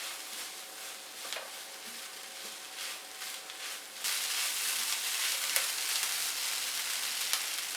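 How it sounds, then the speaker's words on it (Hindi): Mince filling with flour fries and sizzles in a pan, a steady crackling hiss with occasional louder spits that grows noticeably stronger partway through, close up with no voices. "अब इसको 2 से 3 मिनट भूनेंगे"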